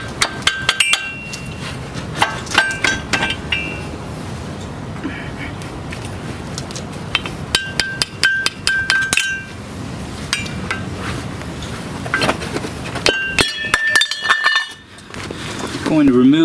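Sharp metallic clinks and taps ring out in irregular bursts while the dust cover is worked off a Duramax truck's front wheel hub, close by, with quieter gaps between clusters.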